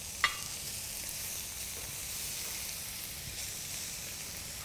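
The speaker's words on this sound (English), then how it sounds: "I'm going to add a little bit of spring onion to the pan, stir those around" Spring onion and scallops with their roe sizzle in a pan, a continuous even hiss of frying with a small clink at the start and faint stirring underneath.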